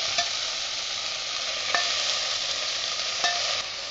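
Curry leaves, fresh coriander and green chilli frying in a pan for brinjal chutney, giving a steady close sizzle with a few sharp stirring clicks and no voices.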